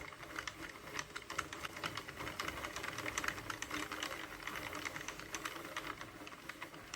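An Addi or Sentro knitting machine knits a sweater cardigan, giving off a continuous fast clatter of plastic pegs clicking in a tight, even rhythm, close and fairly quiet.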